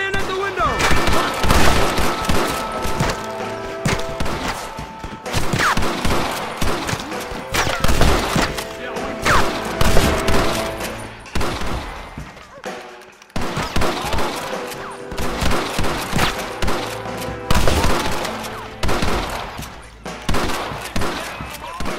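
Sustained shootout gunfire in the Red Dead Redemption video game, dense overlapping rifle and pistol shots crackling throughout, with impacts, brief lulls and voices shouting amid the din.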